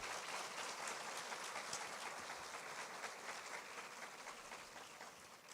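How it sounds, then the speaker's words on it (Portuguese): An audience gives a round of applause for advisors at an event, a faint, steady patter of many hands clapping that holds evenly throughout, distant and without voices. "Eu gostaria de pedir uma salva de palmas para os nossos conselheiros"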